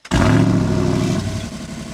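A Jeep Wrangler Rubicon 392 V8 firing up in loud exhaust mode, a sharp start burst settling into a deep, rumbling burble close by.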